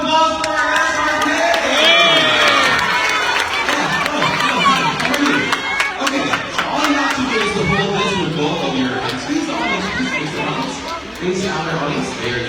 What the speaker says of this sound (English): Everybody, a round of applause for SRK